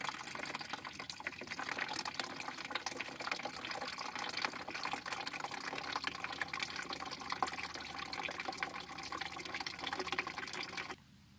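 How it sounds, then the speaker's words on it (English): Coolant water draining steadily from a vehicle radiator during a final flush, a continuous splashing gush that runs unbroken at close range before cutting off abruptly at the end. "Now we need to drain our radiator for the last time"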